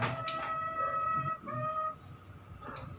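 A chicken's drawn-out, crowing-like call rings out close by, with a second shorter call after a brief pause, over faint background noise.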